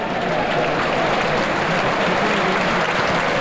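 A football stadium crowd at Burnley versus Liverpool holds a minute's applause for a fan who died, a dense, continuous roar of clapping from thousands, loud and unbroken throughout.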